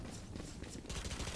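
Bursts of gunfire from the tactical shooter Valorant during a late-round clutch, dense rapid shots that grow louder and fuller in the final half second, with faint game chatter underneath.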